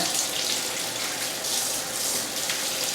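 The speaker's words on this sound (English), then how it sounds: "clean them really well under the water because it's fun" Beets being rinsed under a running tap make a steady, close splashing hiss of water that stays even throughout, with no talking.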